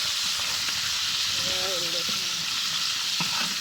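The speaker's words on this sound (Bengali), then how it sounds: "সেই ভাজা হয়েছে মাছটা।" Fish, a large pond-caught fish, frying in a pan, giving a steady broad hiss of oil that runs evenly throughout, with brief faint tonal sounds and a few soft knocks in the kitchen.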